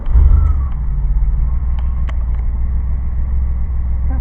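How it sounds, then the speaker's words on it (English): Car engine started and settling into idle: a loud low rumble swells at ignition and then holds as a steady, throbbing idle nearby, with a few light clicks and knocks over it. "Let's go ahead and fire her up."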